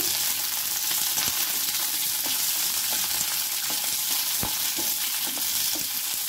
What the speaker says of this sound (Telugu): ఈ పచ్చిమిర్చి మాత్రం సిమ్లోనే పెట్టుకొని వేయించుకోవాలండి